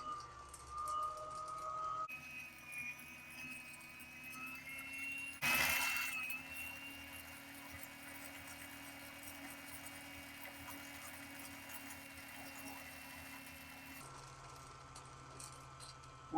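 A Kenmore sewing machine winds thread onto its bobbin with a steady motor whine and rattle lasting several seconds. The sound is close but quiet, and its pitch shifts as the winding speed changes.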